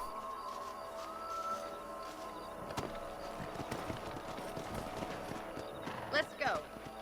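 Horse hooves clip-clop in the Western video game Red Dead Redemption, a steady run of thuds under game dialogue and a short whinny near the end.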